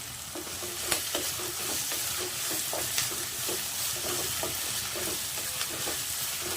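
Green chillies frying in a crab pepper gravy, a busy crackling sizzle with repeated stirring scrapes against the pan, close and continuous, with no voices.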